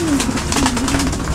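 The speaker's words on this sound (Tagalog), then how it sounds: "Mga kalapati mo gusto na rin kumain." Pigeons coo softly and steadily nearby in a rainy outdoor setting, a low continuous burble standing alone without talk.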